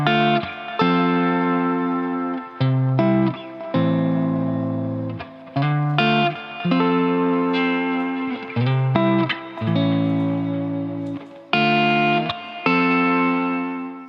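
Fender Stratocaster electric guitar recorded direct and shaped with amp simulator plugins, a run of chords and arpeggios with short breaks, washed in reverb and light chorus, loud and close with no voices.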